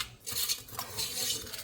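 Dry banana pudding ingredients whisked together in a bowl, a steady, close scratchy swishing and rattling of the whisk against the sides with no voices over it.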